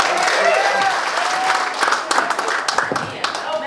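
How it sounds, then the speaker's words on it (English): Audience at a comedy show applauds a comedian being introduced, a burst of dense clapping and cheering mixed with crowd voices, thinning into scattered claps toward the end. "please give me a round of applause for Miss Melissa Diaz"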